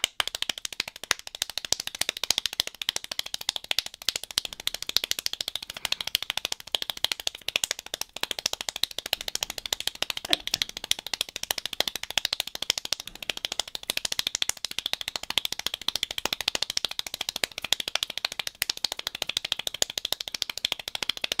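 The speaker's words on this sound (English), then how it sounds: "The fastest clapper? 802 claps in a minute?" Extremely fast hand clapping from a record-speed clapper, a dense continuous patter of sharp claps at a steady frantic rate for the whole stretch, loud and alone with no talk.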